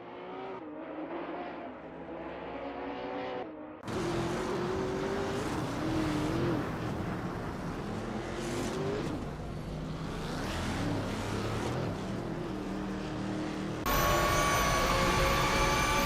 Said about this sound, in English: We're about to watch some exciting AI-driven car races